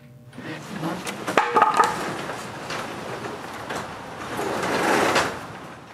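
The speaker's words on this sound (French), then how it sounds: "il faut ouvrir la porte" A wooden workshop door under construction is forced open, giving scraping, creaking wooden slides and a few knocks that swell to a broad grinding rush near the end, with no talk.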